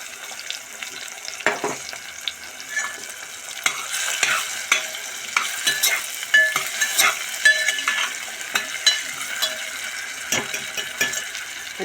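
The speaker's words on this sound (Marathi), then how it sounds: "याच्यात हिरव्या मिरच्या घालते चिरलेल्या" Chopped green chillies sizzle and fry in hot oil while a spoon stirs and scrapes the pan, a steady close crackling hiss broken by irregular clinks, with no one talking.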